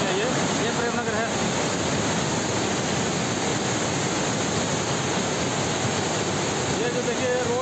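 Floodwater from heavy rain pours down past a temple in Premnagar, making a loud, steady roar that never lets up. Faint traces of a voice sit beneath the rushing water.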